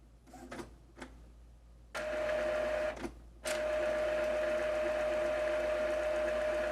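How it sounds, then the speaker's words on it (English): Epson EcoTank ET-2800 inkjet printer initializing and priming its ink: a few short mechanical clicks and whirs, then a steady close motor hum with a high whine that runs on alone. "It needs to pump the ink through a bunch of tubes inside the printer to get it primed."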